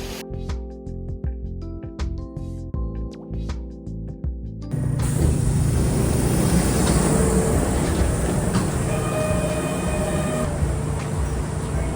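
A short tonal chime melody with clicks gives way to a steady rumbling train ride, wheels and carriage noise droning continuously.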